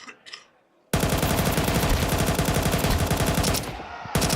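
Rapid automatic gunfire sprayed through a smoke grenade in a Counter-Strike esports match, as a dense, continuous burst of shots lasting several seconds, loud and close, with a brief pause before another shot at the end.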